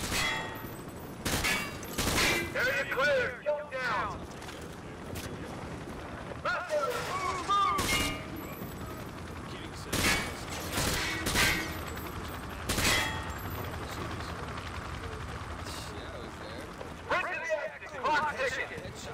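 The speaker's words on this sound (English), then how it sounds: "I'm just going to talk about that after I shoot all these cardboard cutouts" Game gunfire from a Modern Warfare 2 training range, with repeated sharp shots fired at cardboard cutout targets in irregular bursts, loud and close amid other in-game sounds and voices.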